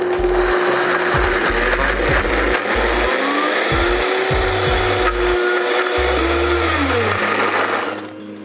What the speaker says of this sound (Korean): 항상 블렌더는 바로 강으로 시작하는 게 아니라 약부터 중, 강 이렇게 순서대로 진행해 주는 게 좋습니다.